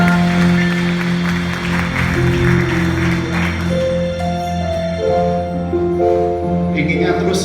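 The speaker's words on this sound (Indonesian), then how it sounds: "Kita lambaikan tangan kita berikan sorak-sorak yang paling meriah untuk Tuhan Yesus" Congregation at a Sunday church worship service applauding and cheering, steady and full throughout, layered over sustained music with held tones.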